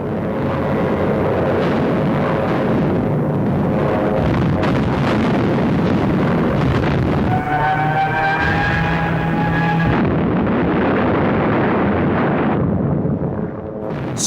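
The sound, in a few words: Stuka dive bomber attack with explosions, WWII footage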